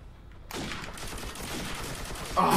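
Rapid automatic gunfire from Call of Duty 4: Modern Warfare bursts in after a quiet start and rattles on steadily and fairly loud for about two seconds, ending on a sharper, brighter blast.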